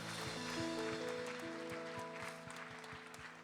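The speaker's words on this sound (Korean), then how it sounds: "주님 앞에 감사의 박수를 올려드립시다." Faint, rhythmic clapping from a church congregation at a youth worship service, steady beats under sustained organ or keyboard tones, distant and soft.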